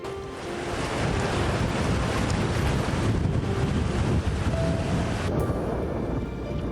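Sea waves and strong wind roar around women divers working off Jeju Island near Samdal-ri. The surf wash is loud and continuous, with heavy wind buffeting and no voices.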